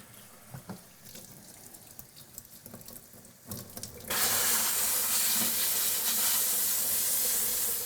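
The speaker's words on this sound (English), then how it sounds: "And then you can rinse everything down." Water runs from a tap to rinse a dryer lint trap, starting as light splashing and drips, then turning abruptly into a loud, steady, hissing gush of spray that continues to the end.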